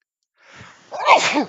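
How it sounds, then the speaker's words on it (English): One sneeze, close and loud: a short breathy intake followed by a sharp burst. "I have to sneeze"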